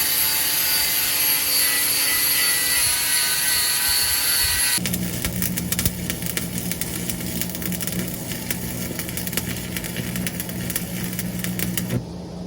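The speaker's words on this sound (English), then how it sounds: "So I'm gonna drill a hole right here, and 2 bolts there" A power drill bores a hole through a one-ton truck's steel frame to bolt on the bed, a loud continuous whine that shifts to a lower, grinding tone partway through as the bit bites, close up and with no talking.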